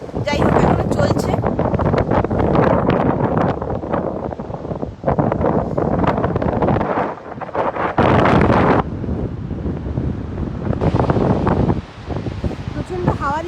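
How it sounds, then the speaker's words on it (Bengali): Strong wind buffets the microphone at Gullfoss waterfall in Iceland, a loud continuous roar with gusty rumble that dips briefly around seven and twelve seconds, with no talking heard. "প্রচণ্ড হাওয়া দিচ্ছে"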